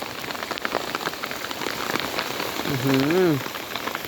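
Steady rain patters densely on surfaces nearby, a continuous hiss with scattered drops, while a brief voice-like tone rises briefly near the end.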